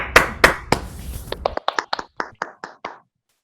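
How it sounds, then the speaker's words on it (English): A short burst of hand clapping from an online talk audience, a few quick claps at first and then about a dozen sparse, separate claps that slow and stop, like a small scattered group applauding. "And unmute and applause if you want to."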